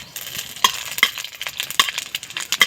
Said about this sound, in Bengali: এবারে নাড়তে নাড়তে এই পালং শাকগুলো আমি ভেজে নেব কড়ার মধ্যে